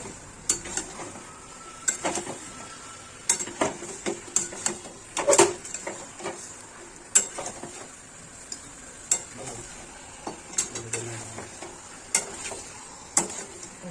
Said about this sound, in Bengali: ভালো করে মিক্স করে নিচ্ছি মশলার সাথে।